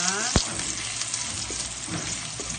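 Garlic, ginger and onion sautéing in a little oil in a pan, a bright continuous sizzle with a few quick clicks of a utensil, close and steady, no speech.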